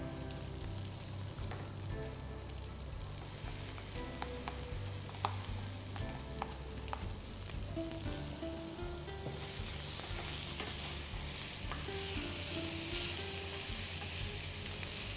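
Chopped tomatoes sizzling and being stirred in a pan for palak mutton gravy, a steady loud frying crackle with repeated scraping stir strokes throughout, close up with no talking.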